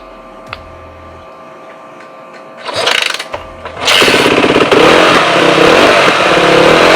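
A 450F dirt bike engine with the choke on sputters briefly, then catches and runs at a loud, steady, rough idle, close by and without talk.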